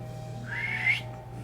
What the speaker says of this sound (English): The clown blows his slide whistle again as you approach.